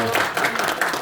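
Short bursts of hand clapping from a gathered group at a school teachers' meeting, brisk and moderately loud, rising and falling in quick waves.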